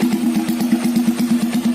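Custom Honda CB bobber motorcycle engine idling with a steady, even thumping pulse, close and loud, running alone without any voices.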